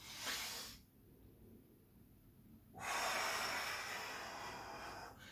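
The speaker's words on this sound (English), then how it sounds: "Breathing in on the way down." Close, breathy inhalation with a snort-like nasal edge, taken while lowering during a slow exercise rep, followed after a brief quiet gap by a steadier, rushing breath that continues to the end.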